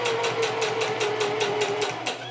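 A sewing machine stitches a woman's fly zipper shield, giving a steady, close, rapid whirring with an even pulsing rhythm. It runs for a couple of seconds and eases slightly at the end.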